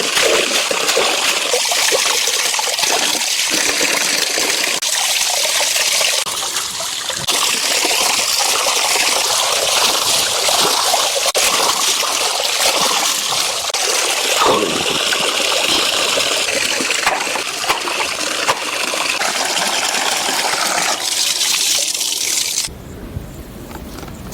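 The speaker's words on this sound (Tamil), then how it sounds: "இதை நல்லா கழுவி எடுத்துக்கலாம்." Raw chicken washed under water in a village kitchen, with a loud, steady rush of running water and splashing throughout that drops away abruptly near the end.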